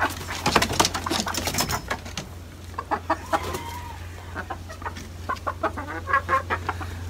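Egg-laying hens cluck and call close by in repeated short bursts, with several birds overlapping against a low steady hum.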